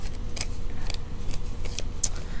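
Scissors snipping through tissue paper and newspaper for a collage, with a handful of crisp, separate cuts at an uneven pace over a soft background hiss, close and fairly quiet.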